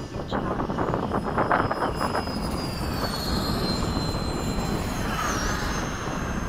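An FMS F/A-18 radio-controlled model jet roars past continuously, a steady loud turbine rush with a whine that shifts pitch as it moves across the sky, with no talk over it.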